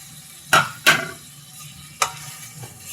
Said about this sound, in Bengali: মশলাটাকে আমি সুন্দর করে কষিয়ে নিচ্ছি।